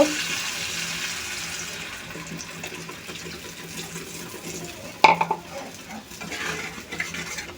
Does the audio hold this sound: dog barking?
no